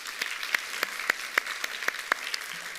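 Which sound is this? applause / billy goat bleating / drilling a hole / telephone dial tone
applause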